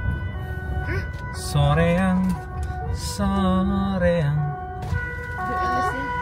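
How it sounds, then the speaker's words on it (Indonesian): An ambulance siren wails in repeating rising and falling sweeps as the vehicle passes on a road near Pangalengan, loud and close over traffic rumble, with people talking in a car throughout. "Wah, ambulans,"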